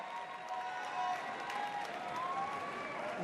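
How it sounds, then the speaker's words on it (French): A tennis audience at a Roland-Garros exhibition claps in a brief, moderately faint burst of applause, steady throughout with a few scattered cheers and no clear talk. "Applaudissez si vous étiez là pour ce match qui finit à 2h du mat"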